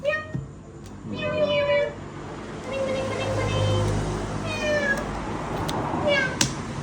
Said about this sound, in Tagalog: Ay, pusa!